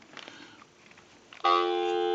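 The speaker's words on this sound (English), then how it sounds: "We'll go ahead and give you some dial tone." A steady telephone dial tone from a Harris TS22AL linesman buttset switches on abruptly and holds loud and unbroken, following a moment of faint clicks and handling noise.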